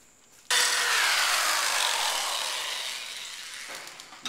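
A drill boring a larger hole through a lawn mower deck, one steady harsh grinding run that starts abruptly, holds for about three seconds and then tapers off, loud and close with no talking.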